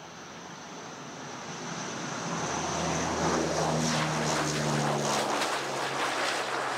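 An Antonov An-12 turboprop transport aircraft, a steady droning engine roar that grows louder as it approaches, with a low propeller hum beneath.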